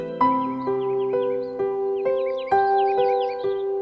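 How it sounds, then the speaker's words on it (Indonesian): Loud, clear bird calls repeat in a steady sequence of about eight calls, sounding close and alone over a soft tonal backing. "Kicauan ini terancam tak terdengar lagi"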